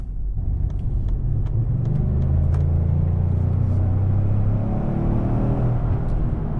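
A 2019 Lincoln Navigator cruises at about 55 mph, heard from inside as a steady low road rumble and engine drone that swells slightly and holds level.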